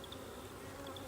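Honey bees buzzing at opened beehives, a dense continuous drone from many insects close by, steady and moderately loud, with no voices.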